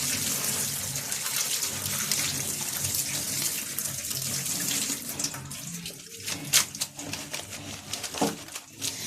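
Sliced potatoes being rinsed for homemade crisps under a running tap into a sink, a steady close wash of water with occasional splashes and clatters near the end.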